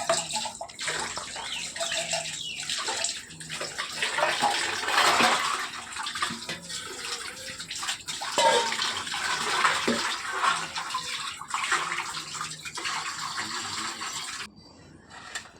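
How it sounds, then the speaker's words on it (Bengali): Dirty dishes being scrubbed and washed under running water in a village home, a steady splashing and scraping wash sound continuing loud and close, alone without talk, cutting off near the end. "তারপর রাতে এঁটো বাসনগুলো মেজে নিলাম"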